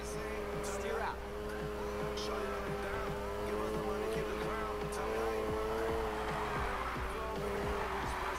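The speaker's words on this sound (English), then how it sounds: "You're drifting." A car drifts in Need for Speed Heat, its engine holding a steady, sustained drone under a squealing tire slide, with sharp rubbery chirps scattered throughout.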